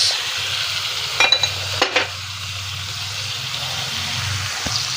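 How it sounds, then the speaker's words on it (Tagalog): Dalagang bukid fish sautés in a pan with tomato, garlic and onion, making a low, continuous sizzle with a few close clanks of a utensil against the pan early on. "Ito na guys yung ating ginigisang tomato, garlic, and onion."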